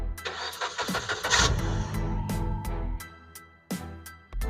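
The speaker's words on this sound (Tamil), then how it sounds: "வண்டி இன்ஜின் ஸ்டார்ட் பண்றது செக் பண்ணி பாத்துக்குங்க." A car engine cranks with rapid repeated clicks and turns over, rumbling close by, then cuts out and cranks again near the end.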